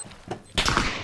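Gunfire in PUBG, one short shot then a denser burst of rapid cracks from behind, loud and close, with no talk over it.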